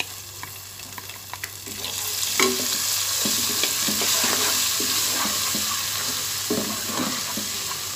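Garlic-ginger paste sizzles steadily in a hot pan with cumin for a pea pulao, while a spoon stirs and scrapes with scattered clicks, close and without talk.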